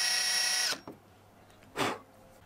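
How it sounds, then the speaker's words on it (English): A power drill whines steadily while boring a hole in the inside of a wooden dartboard cabinet, stops abruptly, followed by a couple of brief knocks and a short rustle. "I drilled some holes on the inside where I could install some rare earth magnets"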